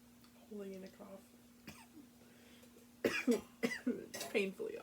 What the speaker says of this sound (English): Holding in a cough.